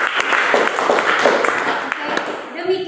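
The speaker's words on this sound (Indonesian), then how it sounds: "Tepuk tangan untuk kelompok 1." Classroom applause for a student group, scattered hand clapping from students with voices talking over it, tapering off toward the end.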